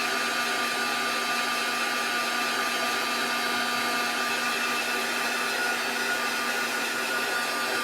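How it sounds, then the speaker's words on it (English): Handheld heat tool blowing hot air to dry Mod Podge on a craft sign, a loud constant whirring fan hum with a steady pitch throughout and no breaks. "since it doesn't take long to dry with a heat tool"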